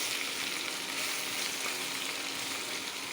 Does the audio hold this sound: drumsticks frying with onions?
yes